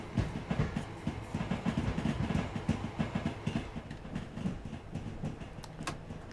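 Train running in the Train Sim World 5 video game, London route: steady rumble with rhythmic clickety-clack of wheels over rail joints, loud and continuous, no talking.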